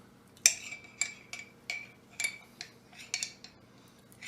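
A spoon stirs separated tahini inside a jar, giving a run of sharp metallic clinks and scrapes against the glass roughly every half second, close and fairly clear.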